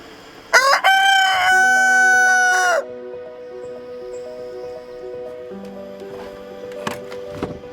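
A rooster, apparently in a cage aboard a pirate ship, lets out one loud, close crow that lasts about two seconds. Sustained electronic tones and a few faint clicks come after it.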